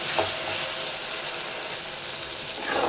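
Two garlic cloves sizzle in hot oil while being sautéed for a dried fish thokku, a soft, steady hiss of frying with faint stirring scrapes near the start and end, and no talk.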